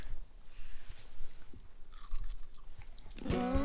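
Chips and hummus eaten as a trail snack while backpacking in the Olympics, heard as close, moist crunching and chewing bites with a few sharper crunches near the end.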